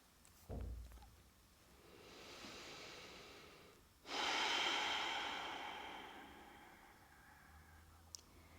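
Slow, relaxed breaths during a prenatal yoga relaxation pose, a soft long exhale followed by a fuller, louder breath, quiet and close with no talking.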